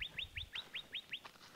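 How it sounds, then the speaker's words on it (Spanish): Small birds chirping at a date farm in California: a rapid, even series of about seven bright, high chirps close by, over faint outdoor background with no voices. "Miren los pajaritos"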